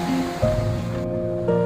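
Sea waves roll in at Puri beach under cyclone conditions, a low rushing surf with a swell in the middle, heard briefly and nearby with a faint tonal hum over it.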